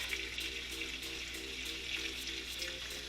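Bacon frying in a hot skillet, a steady sizzle with scattered crackles and pops, constant and moderately quiet, with a faint repeating tonal pattern in the background.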